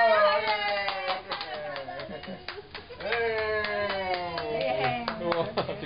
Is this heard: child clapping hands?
yes